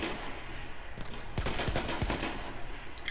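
Battlefield 1 gunfire snaps in a short cluster of several sharp shots over a steady background rumble of game noise, fairly loud and close.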